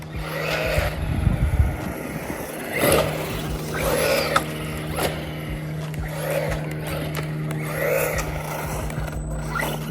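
An Arma Big Rock 223S RC truck fitted with a wheelie bar drives and slides, giving a steady electric motor whine with a low hum and a rhythmic run of surging bursts, close and fairly loud, with no talking.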